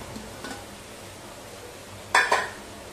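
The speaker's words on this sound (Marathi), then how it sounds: "झाकण उघडून बघूया" A metal lid comes off an idli steamer pot with one sharp, ringing clank near the end, after a quiet kitchen background with a faint earlier tap.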